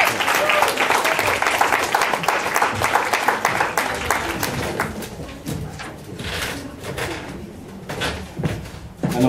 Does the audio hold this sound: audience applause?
yes